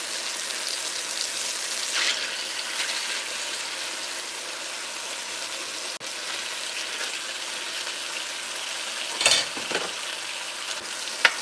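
Stew chicken sizzles steadily in a hot pan as pieces are turned over, with a continuous broadband crackle and a few brief scraping clatters near the end, close and moderately loud with no talking.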